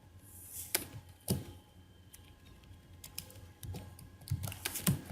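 Typing on a computer keyboard at a desk in short irregular bursts of close, quiet key clicks and a few heavier taps, with no talking.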